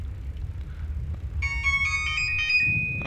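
Phone alert tone, a short bright electronic chime of a few stacked beeps rising over a low room hum and faint game background noise, lasting about a second and a half.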